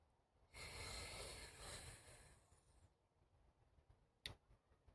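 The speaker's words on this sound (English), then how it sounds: "Watch me breathe." A single full, deep breath drawn in and let out close by, a long airy rush that swells and then fades, followed by a short sharp puff, with no talking.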